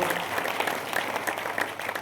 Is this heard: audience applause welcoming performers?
yes